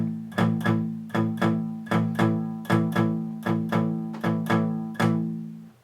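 Palm-muted electric guitar power chords in a beginner blues lesson, struck in a steady rhythm of about a dozen short, chunky, damped chords, each decaying quickly, close and alone with no talk.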